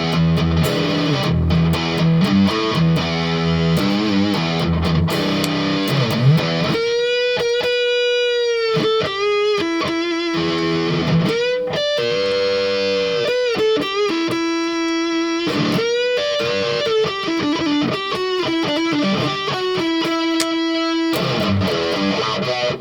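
ESP LTD EC-256 electric guitar in black satin, both humbucker pickups engaged, played with a heavily distorted tone: chugging riffs give way to sustained ringing notes and bends, loud and continuous with no talking.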